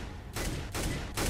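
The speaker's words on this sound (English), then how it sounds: "They shot me, though." Gunshots in the video game Roblox: three loud, dense blasts in quick succession, each sustained briefly, filling the short clip with no talk.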